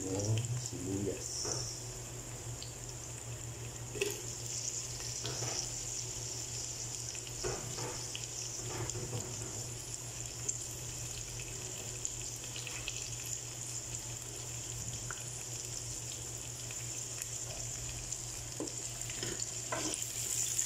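Onion goes into a cooking pot and sizzles in hot oil, a soft continuous frying hiss with scattered stirring clicks and scrapes, fairly quiet and close.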